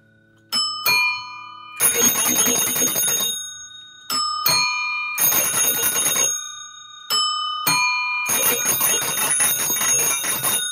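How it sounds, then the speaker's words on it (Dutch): An orchestra of many bicycle bells rings in bursts, sharp single dings followed by longer jangling trills of several bells together, loud and close, alternating with short silences. "En dan gaan we in een orkest maken. Van allemaal fietsbellen, dat is leuk."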